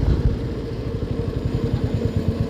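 A Royal Enfield Meteor 350 motorcycle brakes from about 60 km/h, its single-cylinder engine giving a close, steady thumping putter under wind noise as it slows.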